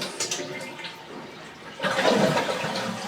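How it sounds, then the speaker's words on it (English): A household toilet tank flushes during a fill valve adjustment: a faint hiss and trickle first, then a sudden louder rushing swirl of water that continues to the end, close by and without talk. "Shut the water back off the toilet and go ahead and flush the tank again."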